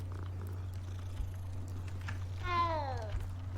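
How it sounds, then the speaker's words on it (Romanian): A cat meows once in Hogwarts Legacy, a short rising-and-falling call standing out clearly over a steady low hum and soft game ambience. "O altă pisicuță."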